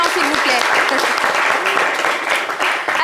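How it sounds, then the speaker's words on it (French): A studio audience applauding for Mr. Kobenan on a live talk show, loud sustained clapping from many hands throughout, with a voice speaking over it. "Applaudissez pour monsieur Kobenan"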